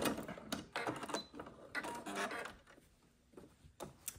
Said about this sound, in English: Don't forget to back tack every time. And back tack at the end as well.